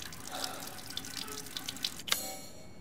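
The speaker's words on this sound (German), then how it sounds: "Wasser." Water runs from a tap in the Resident Evil Village video game, a soft continuous trickle with scattered drips, fairly faint and with no talk over it.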